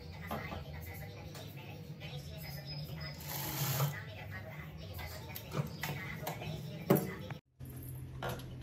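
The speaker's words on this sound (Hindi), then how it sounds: "यहाँ पे पूरे में हम सिलाई लगाएंगे।" A sewing machine stitches a seam on a Sabyasachi-style blouse. Its quick, steady mechanical whirr runs close under a voice talking in Hindi, with a brief pause near the end before it starts again.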